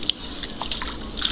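Water is poured over something being scrubbed clean with soap and powder, a steady close splashing gush that runs for about a second and a half with no talk over it.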